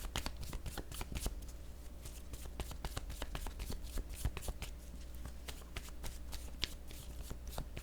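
A deck of tarot cards being shuffled by hand, a steady stream of quick flicking riffles and card slaps, close and soft, continuing throughout.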